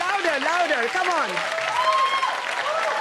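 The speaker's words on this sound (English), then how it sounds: "I think he deserves a bigger round of applause." An interview audience applauds Shashi Tharoor, a steady wash of clapping running under a voice talking over it throughout.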